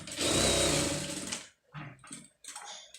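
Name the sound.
sewing machine stitching blouse lining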